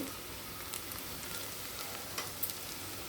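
Sliced onions lightly frying in a pan as the base for a mushroom curry, giving a soft, steady sizzle throughout with no talking.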